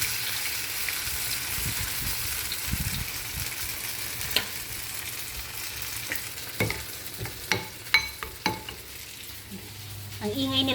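Oil sizzles steadily in a pan as an eggplant omelette fries, with occasional sharp clinks and scrapes of a utensil against the pan toward the end.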